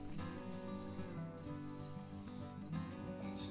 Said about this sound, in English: I'm using spray shellac for the finish.